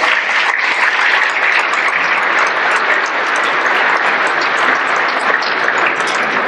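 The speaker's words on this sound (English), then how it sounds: "Yes, I think that deserves a round of applause." Loud, sustained applause from a large audience at a high school graduation ceremony, a thick unbroken roar of clapping at constant strength.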